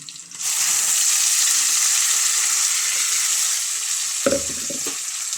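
Tomato hits a hot frying pan for a fish avial, a loud steady sizzle hissing throughout, with a brief clatter near the end and no talk.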